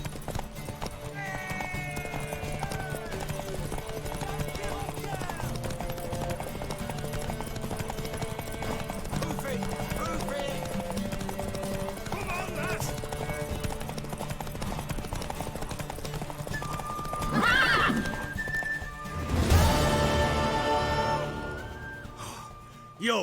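In The Witcher 3 video game, a horse's hooves clip-clop steadily under a low ambient bed, followed by a loud whinny and snorting breath near the end, with voices and a soft musical drone in the background.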